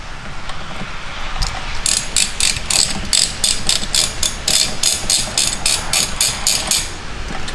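A ratchet with a 16mm socket drives a bolt back in during interior work on a BMW E46 M3, making a rapid, rhythmic run of sharp metallic clicks close by that continues evenly to the end.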